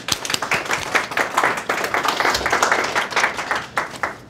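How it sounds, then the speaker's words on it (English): Steady audience applause fills a conference hall after industry report presenters from BentoBox are introduced, dense overlapping claps sustained at an even level throughout. "Let's give them a round of applause"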